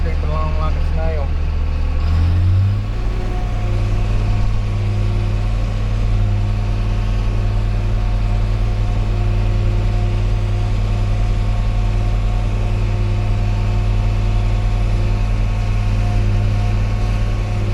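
A large tractor engine, working on a mud-moving job, runs with a deep, steady drone after a brief rise in revs near the start, while people talk over it.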